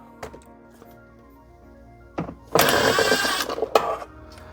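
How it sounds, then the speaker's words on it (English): A power driver whirs as it backs screws out of a golf cart glove box lid, with a few light clicks and taps first, then a short buzzing burst of about one and a half seconds close by. "the first thing you want to do is remove these screws that are in the lid."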